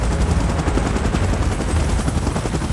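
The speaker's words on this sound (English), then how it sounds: "Chopper in position." A helicopter in the video game PUBG gives off a loud, dense, steady rotor roar with rapid chopping pulses that fill the whole moment and no pause.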